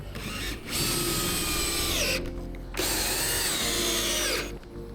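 A power drill drives screws into a second-floor ensuite floor. There are two loud, close bursts of whining motor, each rising and falling in pitch, separated by a brief pause.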